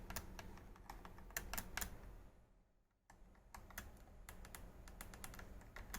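Clicky Cherry Blue mechanical key switches on a joystick-equipped gamepad are pressed in quick irregular bursts of sharp clicks, close and clear, with a brief pause midway before the clatter resumes.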